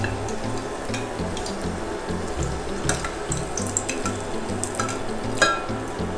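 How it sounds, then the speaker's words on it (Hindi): Nargisi koftas deep-frying in oil over a medium flame, a steady close bubbling sizzle with soft stirring scrapes and occasional small clinks, no voices. "इसको मीडियम फ्लेम पे हम गोल्डन ब्राउन होने तक फ्राई करेंगे"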